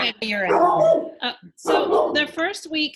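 A pet dog barks and whimpers at a crow in a home during a remote video call, with short yips breaking through over steady nearby talking.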